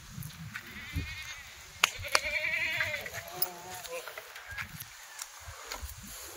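Goats bleat several times at close range in a livestock pen, with someone talking over the calls and a few footsteps shuffling nearby.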